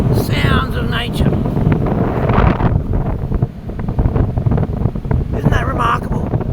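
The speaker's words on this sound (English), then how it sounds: "It's just the wind going through there, making this wind tunnel there." Wind rushes through a natural wind tunnel out in the Australian bush, a loud, close, gusting roar buffeting the microphone, with someone talking over it in stretches.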